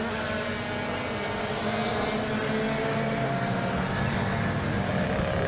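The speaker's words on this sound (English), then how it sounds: "the sound of those BMW engines in particular, absolutely incredible" BMW race car engines roar around Oulton Park circuit, a dense, loud, continuous mechanical rumble from several cars at once with no talk.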